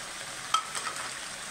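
Onion paste hits hot oil for a village-style onion chicken curry, giving a steady close sizzle with a brief sharp spurt near the start and light stirring underneath.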